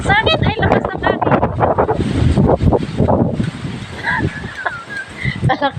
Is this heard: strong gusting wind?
yes